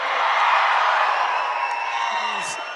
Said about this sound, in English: Let's give a big round of applause to Arvind Garu.